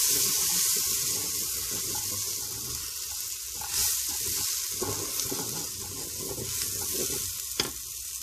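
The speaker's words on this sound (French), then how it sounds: "On ajoute les 200 g de riz. On mélange bien le tout." Rice being stirred into fish and zucchini inside a Cookeo multicooker, a steady sizzling, scraping stir with faint liquid sounds throughout, close and continuous with no talking.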